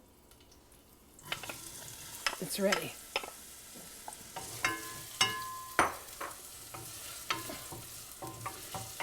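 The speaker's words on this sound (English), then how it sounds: "You hear it sizzling?" Onions sizzle softly in a hot pan while sauteing, a utensil scraping and clattering through them in irregular strokes; a voice speaks briefly.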